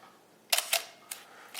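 Mechanical shutter of an Olympus OM-1 film SLR fired at 1/8 second: two close, crisp clicks of the shutter curtains, then two more spaced clicks, near and alone in a quiet room.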